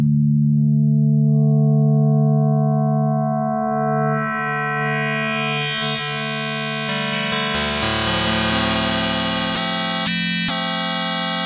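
A Waldorf Q digital synthesizer sine wave with stacked harmonics that grows brighter and more metallic as frequency modulation increases, ending in harsh, clangorous buzzing.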